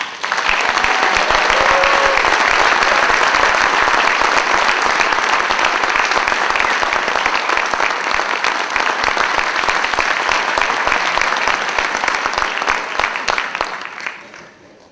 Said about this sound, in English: Let's have a big round of applause for Lee Shay.